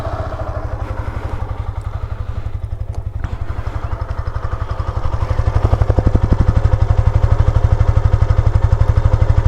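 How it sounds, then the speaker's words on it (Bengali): A Yamaha FZS V3 motorcycle, overdue for a service, idles with a steady low thumping engine beat, loud and close, growing slightly louder and fuller midway through. "তো এইটা হলো এই বাইকের ন্যাচারাল ইঞ্জিন নোট"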